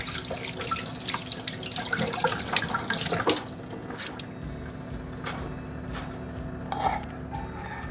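Food being washed under a running kitchen tap, water splashing and dripping steadily into a sink with uneven spatters and clatter, fairly close and continuous, with no talking.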